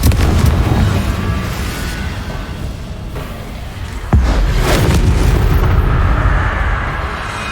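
Loud, booming blasts from the Confringo explosion spell in the video game Hogwarts Legacy, a sharp impact landing over a continuous rumbling battle backdrop with a sustained roaring wash of noise.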